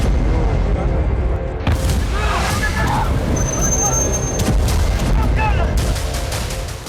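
Missile interceptions over Tel Aviv, heard as heavy booms and rumbling blasts echoing in the distance, with a crowd of people talking and shouting throughout.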